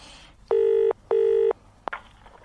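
A telephone number is dialed in a radio drama: two long, even beeps of dialing tones follow one another, then a brief click with faint rustling afterward.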